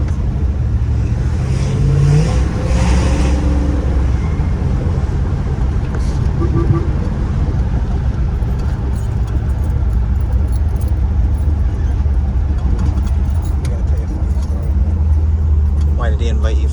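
A 1957 Chevrolet 210 sedan rumbles steadily while driving, with a low engine drone and road noise running throughout and people talking inside the car over the top.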